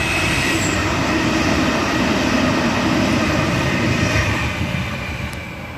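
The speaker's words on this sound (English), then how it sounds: "Now about to rocket past platform 3, central service." A Sydney suburban train, set H34 on a Central service, rockets through platform 3 at Kogarah without stopping, a loud sustained roar of wheels and motors that holds steady and then begins to ease.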